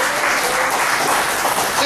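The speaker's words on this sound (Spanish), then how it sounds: "Denle un aplauso fuerte a Jesús" Loud, steady applause from a church congregation during a Christian service, a dense wash of clapping filling the whole moment with a faint murmur of voices underneath.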